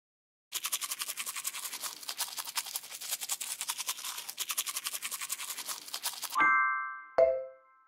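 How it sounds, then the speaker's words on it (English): Toothbrush scrubbing teeth in a Peppa Pig video game, rapid rhythmic brushing strokes for about six seconds, then two bright chime tones ringing out. "Help Peppa brush her teeth."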